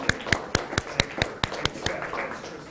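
Scattered hand claps from an audience after a lecture on land and authority in post-colonial Cameroon, roughly ten distinct claps in a loose irregular rhythm, thin rather than a full ovation.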